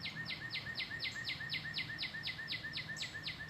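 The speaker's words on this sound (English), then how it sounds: "You guys hear those birds?" Small birds chirp outdoors in a fast, even series of repeated high calls, faint and steady over low background hum, with no voices.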